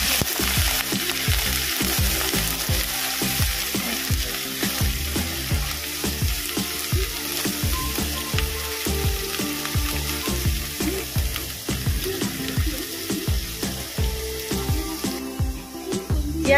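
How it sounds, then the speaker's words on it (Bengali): Chopped onion frying in oil for shol fish curry, a loud continuous sizzle and crackle right up close, with rhythmic stirring scrapes recurring throughout and no talking. "কেটে রাখা পেঁয়াজ দিয়ে দেবো। পেঁয়াজটা কয়েক সেকেন্ড ভেজে নেব।"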